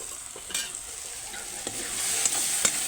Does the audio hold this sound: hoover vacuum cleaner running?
no